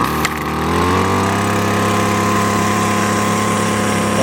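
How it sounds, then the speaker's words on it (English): Gas string trimmer engine catching and settling into a steady running drone with a strong low hum, loud and close, after a brief start at the beginning. "let's start it up, see how it does."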